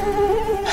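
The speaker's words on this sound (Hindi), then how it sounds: "इस मक्खी को आज हम जीवित नहीं छोड़ेंगे, मृत हो जाएगी आज हमारे हाथों से।" A housefly buzzes steadily and close up, a thin droning whine that wavers slightly in pitch throughout, with no voices.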